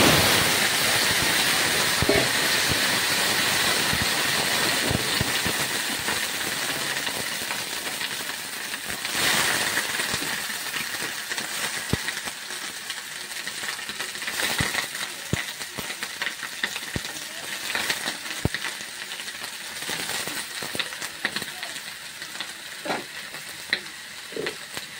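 Mixed vegetables dropped into hot oil and frying, a loud continuous sizzle with occasional stirring clinks, steady throughout with no talking.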